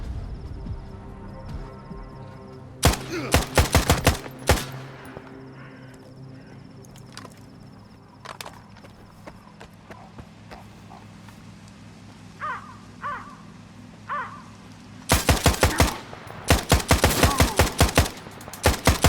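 Rapid bursts of close, loud gunfire in the game Stalker 2, one burst near the start and a longer run near the end, with scattered softer shots and clatter in between.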